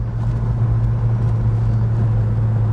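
A 1968 Plymouth Road Runner clone convertible with a six-pack carburetor setup, its engine giving a steady, loud, deep rumble from close by without revving up or down.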